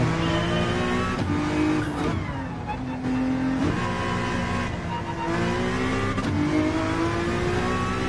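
Honda NSX race car in Gran Turismo 7, its engine revving continuously with rising and falling pitch through gear shifts and throttle lifts, close and loud, with faint tire squeal and a voice talking underneath.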